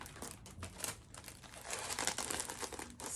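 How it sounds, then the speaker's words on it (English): Packaging crinkles close up in a long run of crisp, irregular rustles and crackles, soft overall and with no voices. "sorry, crinkles,"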